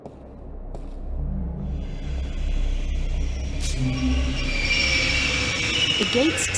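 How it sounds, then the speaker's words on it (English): A Metro train in the video game The Longest Journey rumbles along the rails, its wheels squealing high and clattering as it passes, loud and close, with a voice briefly audible. "This is the Metro line"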